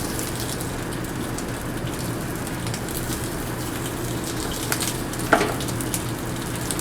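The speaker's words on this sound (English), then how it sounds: "Saute those shrimp nice and golden brown on either side" Shrimp sautéing in a pan for risotto, a steady close sizzle and crackle throughout, with a brief louder pop or clink near the end.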